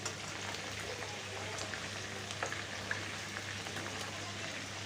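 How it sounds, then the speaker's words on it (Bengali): Chicken pieces for a chicken roast frying in oil, a steady soft crackling sizzle with scattered small pops, continuous and moderately quiet with no talking. "বাকিগুলো আমি ভেজে নেব"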